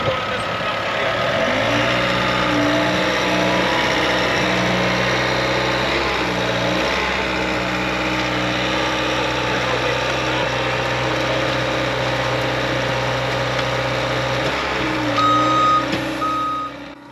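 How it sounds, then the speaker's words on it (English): A skid steer working on a pole barn site digging post holes, its engine running steadily and loud while a reversing beeper pulses in a regular rhythm near the start, then a brief higher beep near the end. "Looking at that skid steer operate compared to the 3-point post hole digger that we're all probably used to is really just almost comical, the difference."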